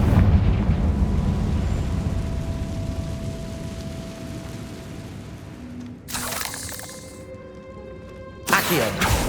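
A Confringo blasting spell in Hogwarts Legacy erupts as a deep, rumbling explosion that slowly decays, followed by sharp crackling bursts of magic near the end.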